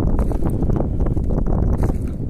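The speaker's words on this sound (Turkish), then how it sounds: "Şu an son derece rüzgarlı bir an" Strong wind buffets the microphone continuously on a forested hilltop in Turkey, a loud rumbling roar with gusty fluctuations and no voices.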